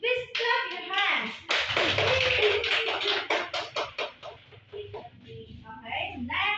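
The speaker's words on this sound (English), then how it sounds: "Please clap your hands." Children in a classroom clap their hands in a quick burst of sharp claps, mixed with chatter and a voice talking over and after the clapping.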